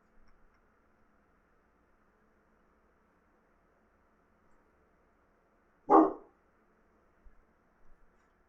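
A neighbor's dog gives a single sharp bark partway through, otherwise near silence with faint background hum.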